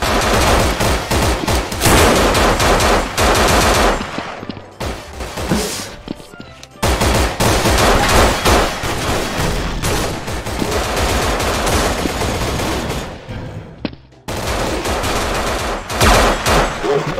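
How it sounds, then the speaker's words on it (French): Sustained bursts of gunfire and automatic weapon volleys in a Garry's Mod DarkRP game as players shoot at police, loud and continuous with brief lulls between barrages. "Allez, tirez les amis, tirez sur la police."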